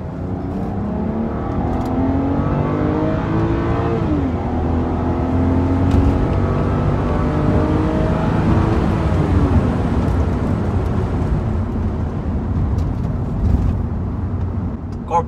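BMW 328i with the N52 engine at full throttle, a loud close in-cabin engine note climbing steadily in pitch, dropping briefly at shifts around four and nine seconds, then rising again.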